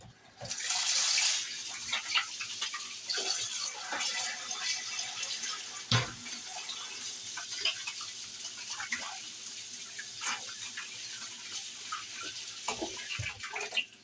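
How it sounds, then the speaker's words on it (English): Hands being washed under a running kitchen tap, a steady close splash and hiss of water with small shifts and knocks as the hands move through the stream, lasting the whole stretch. "Let me wash my hands real quick."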